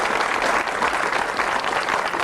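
A crowd claps continuously and evenly throughout, loud and close, with no pauses or speech.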